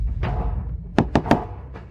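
Three quick, sharp knocks on a door ring out close by after a soft muffled background, with a fainter fourth tap trailing after.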